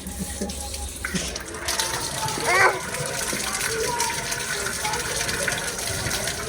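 Water from a broken tap gushes steadily and loudly through the whole stretch, with children's voices and chatter heard over the rush.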